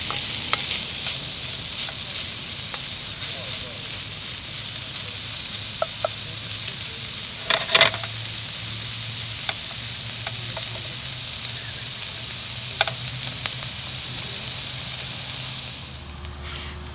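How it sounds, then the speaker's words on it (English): Half a pound of pancetta searing and rendering its fat in a pan for bucatini all'amatriciana, a loud, constant close sizzle with occasional crackles and one brief stir near the middle, easing off at the very end. "And let this sear"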